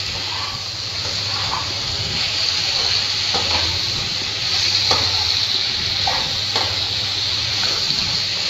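Spiced pointed gourd and potatoes frying in a pan over a medium flame, with a loud steady sizzle throughout and soft irregular scrapes of a spoon stirring the mixture.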